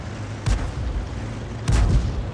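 Tank guns fire in a tank video game, two heavy booming shots about a second apart, each a sharp blast with a short rumbling tail over a steady low engine drone.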